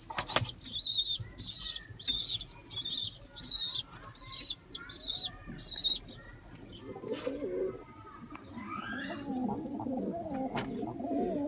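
Pigeons coo in a loft, a run of rhythmic, repeated calls up close, followed by a flurry of wing flapping and rustling movement, with faint creaks in the background.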